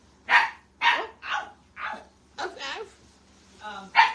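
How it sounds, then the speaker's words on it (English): A dog barks about eight times in short, loud bursts, the barks spaced fairly evenly with brief pauses between them. "Are you barking at Wanda?"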